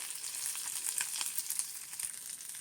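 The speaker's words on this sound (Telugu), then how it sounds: "ఇలా దోరగా వేయించుకోవాలండి." Green chillies sizzle and crackle in hot oil for poha pulihora, a steady bright frying hiss with small pops, close and fairly soft throughout with no talking.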